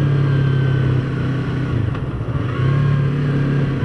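A 2015 Yamaha R3 motorcycle downshifting on the road: a steady, fairly quiet stock-exhaust engine drone that drops in pitch and level briefly mid-clip before the revs settle back to a constant hum.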